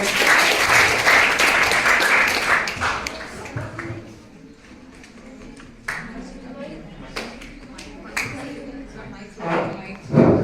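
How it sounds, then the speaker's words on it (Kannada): An audience at a teachers' college event on miracles and myths claps loudly for the first few seconds. The applause then fades into scattered taps and shuffling, with people talking over the noise. "ಚಪ್ಪಾಳೆ ಹಾಕ್ರಿ ಜೋರಾಗೆ."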